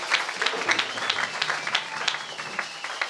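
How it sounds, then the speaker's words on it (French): A church congregation clapping and applauding for the Lord, a short burst of scattered hand claps at moderate distance, fairly soft and uneven, with a voice over it. "Acclamons très fort pour le Seigneur."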